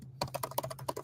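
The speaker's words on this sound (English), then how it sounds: "if you listen to me furiously typing" Fast, furious typing on a computer keyboard: a rapid run of crisp, close key clicks in an irregular rhythm, about a dozen strokes in quick succession over a faint steady hum.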